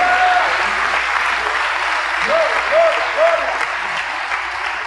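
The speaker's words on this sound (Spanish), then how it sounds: "denle un aplauso al Señor Dios Todopoderoso en esta noche." Loud, sustained applause fills a Spanish-language evening church service, the clapping steady throughout with faint voices and brief tonal sounds underneath.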